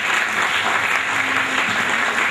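Loud, sustained audience applause fills a college hall at a commerce festival mime event, steady and dense clapping throughout with no clear gaps.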